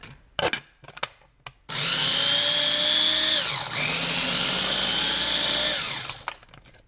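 A food mixer blends an herb and olive oil dressing after a few short knocks, running loud and steady for about four seconds with a brief dip partway, then winding down.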